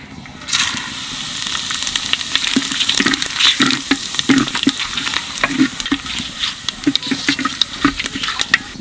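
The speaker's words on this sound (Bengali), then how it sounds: "জিরে, তেজপাতা তেলের মধ্যে দিয়ে দেবো।" Cumin seeds and bay leaves drop into hot oil for a country chicken curry, setting off a loud, steady sizzle with bursts of crackling and spattering close by.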